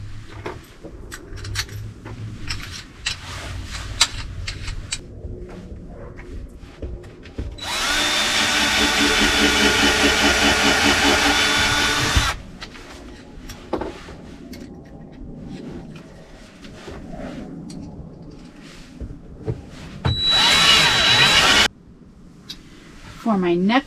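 A power drill drives screws into wood while a toilet cabinet, bedframe and futon are anchored in a van remodel. There are two loud, sustained whirring runs, one several seconds long and a shorter one near the end, with handling clatter and someone talking between them.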